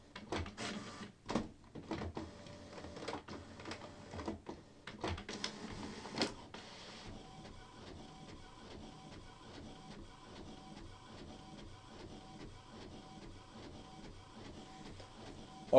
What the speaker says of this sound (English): And you can hear the printer in the background.